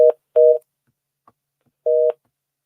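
A telephone line emits a busy-style tone while the line is being reconnected: three loud, clean beeps with uneven gaps, the third coming after a longer pause, with no talk.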